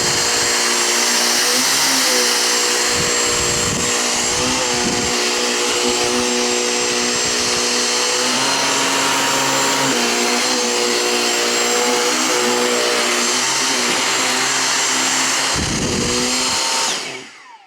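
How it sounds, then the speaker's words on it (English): A Dyson V6 cordless vacuum runs steadily and loudly on a chair, with a constant high whine and broadband roar that shift slightly in pitch as the head moves over the fabric, then cuts off at the end. "I don't know if it's normal to vacuum your chair"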